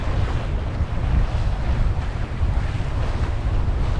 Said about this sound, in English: And there's a reasonable blow. Got full sail up.